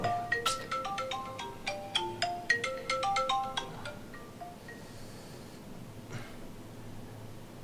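A melodic phone ringtone plays a quick run of bright electronic notes for several seconds, then stops, leaving faint background noise and a brief rustle.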